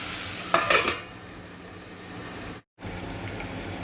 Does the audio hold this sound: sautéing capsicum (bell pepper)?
yes